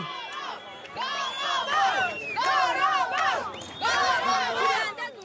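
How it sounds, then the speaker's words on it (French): A crowd in the streets of Fuzuli, Azerbaijan, cheering and shouting in loud, surging waves of many voices with chanted calls, celebrating army gains, close and continuous throughout. "c'est toute la population qui sort dans les rues et applaudit, comme ici à Fouzouli"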